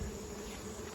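Honey bees buzz at an open hive, a faint, continuous droning hum that stays steady and quiet for the whole moment.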